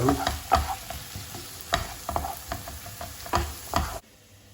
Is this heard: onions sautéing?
yes